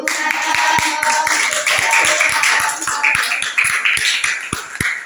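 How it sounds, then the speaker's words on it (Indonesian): An indoor classroom audience claps in rhythmic, fairly even beats for about five seconds, the sharp hand claps sounding close and steady with light chatter underneath. "Tepuk tangannya dulu."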